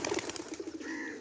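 Racing pigeons coo in a short, soft burst of low, throaty calls from a loft of kept birds.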